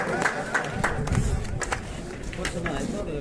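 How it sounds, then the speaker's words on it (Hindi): A crowd claps to welcome a guest at a village gathering honouring a Congress mayoral candidate, a steady patter of many hands rising and falling over a few seconds, mixed with crowd chatter and someone talking over it. "जोरदार तालियों से स्वागत।"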